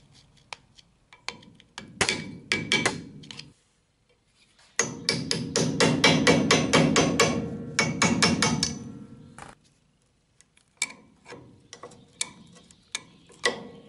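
Metal hammer blows drive a cotter pin out of a lower ball-joint nut on a Traction 11B front axle: sharp, loud, close strikes in quick irregular bursts, with a dense run of rapid hits in the middle and short pauses between groups.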